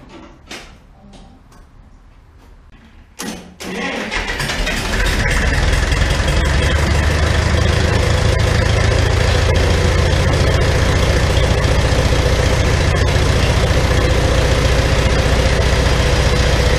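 A Farmall 450 diesel tractor ticks and clicks quietly, then cranks and catches, settling into a loud, steady, rumbling idle close by with no talking.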